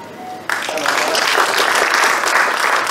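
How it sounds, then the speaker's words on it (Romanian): Sudden round of dense audience applause at an award ceremony, loud and sustained after a brief spoken moment at the start. "O rundă de aplauze în semn de înaltă apreciere."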